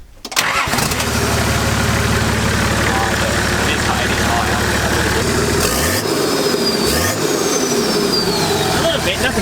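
A turbo diesel TD42 engine in a Nissan Patrol 4x4 with a 3-inch straight-through exhaust cranks and catches, then settles into a loud, steady, rumbling idle with a few small throttle blips, close up, with voices talking over it.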